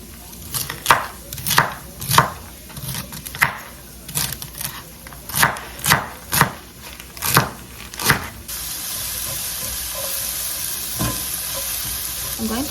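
Knife chopping chard and kale on a cutting board, about a dozen sharp distinct chops in an uneven rhythm, close and loud, followed by a soft steady sizzle of frying in a pan.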